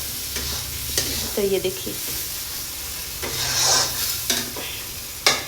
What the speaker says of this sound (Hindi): इसको अभी मैं 1 मिनट और फ्राई करूँगी